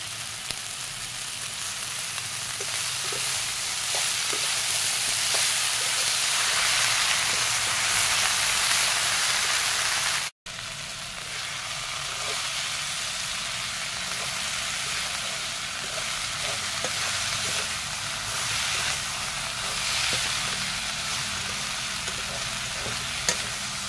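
Chopped fiddlehead fern frying in a pan with nuts, a continuous loud sizzle and hiss close by, with occasional stirring scrapes throughout and a brief cut partway through.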